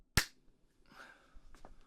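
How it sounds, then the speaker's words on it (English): A single sharp hand clap used to sync picture and sound, loud and close, followed by faint indistinct room noise. "The classic old clap to sync the video with the audio"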